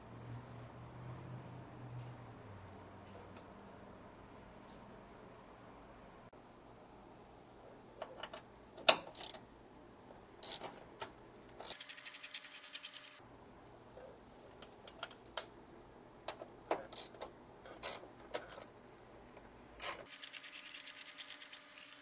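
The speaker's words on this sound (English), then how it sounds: "So now that we're going to be taking off this last 13mm bolt" Ratchet working a teal 13mm bolt on a Porsche Boxster radiator condenser fan: a quiet, close-up stretch of faint rubbing, then sharp clicking bursts come in irregular spurts.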